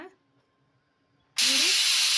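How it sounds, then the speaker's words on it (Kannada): A pressure cooker cooking tili saaru lets out a sudden, loud whistle of escaping steam after a near-silent pause, continuing steadily to the end. "ನೋಡಿ ಮೂರು ವಿಸಿಲ್ ಬರ್ತಾ ಇದೆ ಇವಾಗ"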